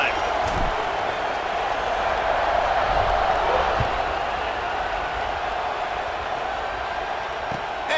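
Stadium crowd at a college football game, Colorado versus Clemson, keeps up a broad, steady roar of cheering throughout, with a commentator talking over it.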